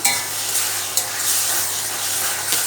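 Tomatoes are sautéed soft in a pan and broken up with a spatula for a capsicum gravy: a close, steady hiss and sizzle marked by a few sharp scraping taps.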